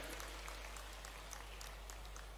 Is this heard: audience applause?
yes